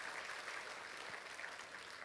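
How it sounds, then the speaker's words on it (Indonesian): Church congregation applauding together, a steady wash of many hands clapping at moderate volume, continuous and dense with no gaps. "Kita kasih tepuk tangan buat kemuliaan nama Tuhan."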